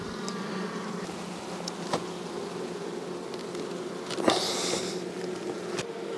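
Buckfast honeybees buzz steadily close by, a continuous droning hum with a few louder passes sweeping near, no talking.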